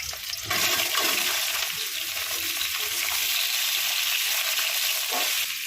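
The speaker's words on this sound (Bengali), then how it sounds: "তেলটা গরম হয়ে গেছে, দেবো দুটো শুকনো লঙ্কা, একটু পাঁচফোড়ন দেবো, দুটো কাঁচা লঙ্কা, আর দেবো আলু, বেগুন, কুমড়ো, শিম।" Dried red chilies, panch phoron, green chilies, potato, eggplant, pumpkin and flat beans dropped into hot oil burst into a loud, steady hiss and sizzle close by that carries on unbroken, with no talking.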